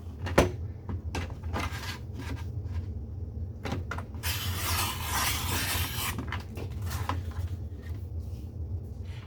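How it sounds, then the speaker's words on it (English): A Creative Memories decorative paper trimmer with a pop-on V-blade slices a long strip of paper: a few sharp nearby clicks and taps, then a steady close scraping rasp lasting about two seconds, over a constant low room hum with no talking. "if I want to cut a longer measurement, I'm going to use the left-hand side of the trimmer"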